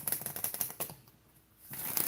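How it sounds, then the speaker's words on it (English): A deck of cards being shuffled by hand, a rapid close run of crisp riffling clicks, a brief pause, then another burst of flicking at the end. "it feels good to shuffle her up again"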